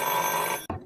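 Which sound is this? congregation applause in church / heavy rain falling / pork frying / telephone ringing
telephone ringing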